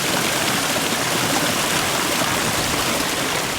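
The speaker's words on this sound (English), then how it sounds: "One is water falling into water, and that's the deepest and loudest sound that it makes." A constant, rushing roar of water pouring into water, like a stream or small waterfall, steady and full without pauses.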